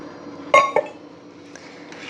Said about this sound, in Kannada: ನೀರಲ್ಲಿ ಬೆಲ್ಲ ಕರಗೋವರೆಗೂ ಚೆನ್ನಾಗಿ ನಾವು ಈ ಥರ ತಿರುಗಿಸ್ಕೊಬೇಕು